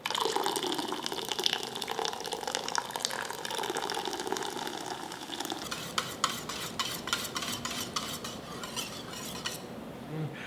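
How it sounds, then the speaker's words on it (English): Cola is poured over pork and stirred, with a steady close liquid hiss and bubbling, then a run of quick spoon clinks against the pan toward the end, all without talking. "We'll add one last 8 ounces of our cola."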